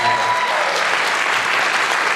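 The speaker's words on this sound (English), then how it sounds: "another round of applause for those singers and the band" Audience applause for the singers and band closing a jazz camp concert, dense and steady clapping from a crowd filling the whole moment without talk.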